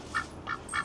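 A duck quacks three times outdoors, short nasal calls evenly spaced and fairly faint against quiet background noise.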